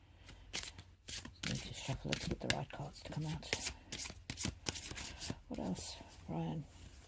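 Close, crisp riffle-shuffling of a deck of cards during a card reading, with repeated bursts of fluttering card snaps in quick succession.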